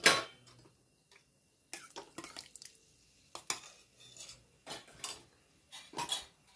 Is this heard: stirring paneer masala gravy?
yes